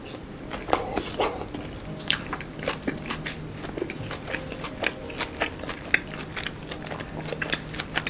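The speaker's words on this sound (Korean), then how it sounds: "고수를 조금 집어서 이 친구랑 같이 소스를 이번엔 듬뿍 묻혀서 이렇게 한번 먹어보도록 하겠습니다" Braised pork belly (hong shao rou) with cilantro and sauce is chewed close up, giving soft, wet crunching bites in an irregular rhythm of repeated mouth sounds, with no talk.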